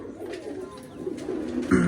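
Pigeons being given grain and water coo in a low continuous murmur close by, building slightly toward a sharper, louder call at the end.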